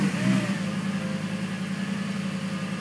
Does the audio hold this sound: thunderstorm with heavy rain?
no